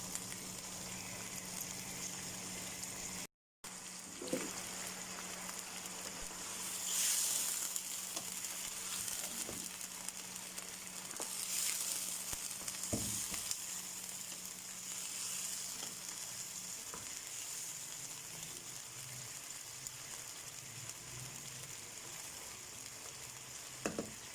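Chicken shinwari frying hard over a high flame, a steady broadband sizzle running without a break through the whole stretch, with a brief gap near the start and occasional clicks of a utensil against the pan.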